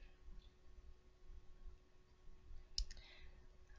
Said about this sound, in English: I'm going to click on it.